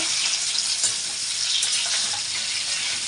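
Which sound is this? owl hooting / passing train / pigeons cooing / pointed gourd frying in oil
pointed gourd frying in oil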